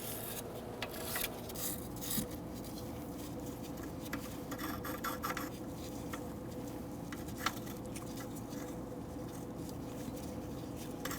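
Brushing and scrubbing around the intake tube area of a 2000-2007 Ford Taurus 3.0L V6 during intake manifold work, with faint, intermittent rasping strokes coming in short bursts over a quiet background.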